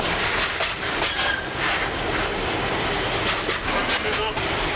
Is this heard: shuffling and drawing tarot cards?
no